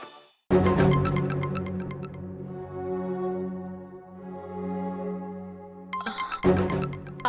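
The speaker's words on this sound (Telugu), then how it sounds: "అమ్మా నీకు ఫోన్ వస్తుంది చూడమ్మా." Melodic phone ringtone in a Telugu TV serial home scene, a bright chiming tune with sustained tones playing loudly and steadily for several seconds, briefly pausing, then starting again.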